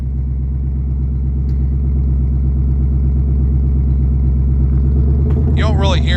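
A 2024 Ford Mustang running an MRT H-pipe exhaust in its next mode idles with a steady, deep rumble close by, then swells slightly near the end as someone begins talking over it.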